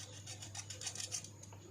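A dirty part from a dripping water faucet is scrubbed by hand, a short series of soft rhythmic rasping strokes, close and fairly quiet.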